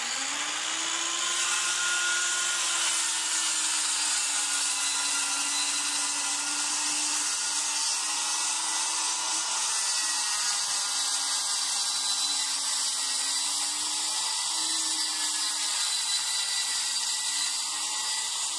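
An AccuCut track saw runs through wood in one long, continuous, high-pitched whine, close and steady, with a slight wavering tone as the blade moves along the cut.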